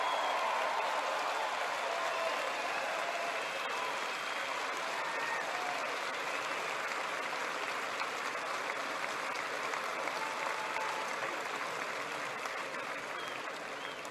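An outdoor political rally crowd in Monroe, Louisiana keeps up a steady, dense roar of clapping and cheering for a full fourteen seconds at an even, moderate level.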